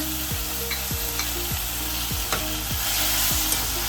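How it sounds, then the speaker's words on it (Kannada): Green chilli, garlic, ginger, cardamom, cinnamon and cloves fry in ghee for palak pulao, a steady close sizzle broken by regular spoon scrapes roughly every half second as they are stirred, with no voices. "ಇದನ್ನೆಲ್ಲನೂ ನಾವು ಹಾಕ್ಕೊಂಡು ಅದ್ರ ಜೊತೆನೇ ಫ್ರೈ ಮಾಡ್ಕೊಳ್ಳೋಣ."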